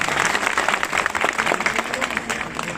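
Loud, sustained applause from a village crowd greeting an actor at a welcome event in Bihar, dense continuous clapping with no speech over it.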